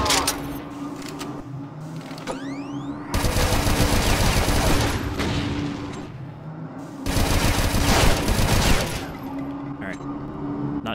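Sustained automatic gunfire in the Doom 2 total conversion SIREN demo roars in two long, dense bursts between quieter stretches with sporadic shots, whooshing projectiles and a droning ambient hum.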